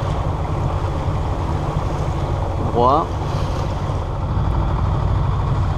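A motorboat cruises under engine power on the open sea near the Corsican coast, a constant loud engine drone mixed with wind and water rush, with a brief spoken word partway through.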